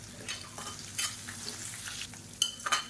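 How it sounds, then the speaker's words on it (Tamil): Sliced onions with salt sautéing in a pan, a steady soft sizzle with intermittent scrapes and clinks of a stirring spoon, close and without talk. "இப்போ பாருங்கள் வெங்காயம் நல்லா வதங்கிடுச்சு"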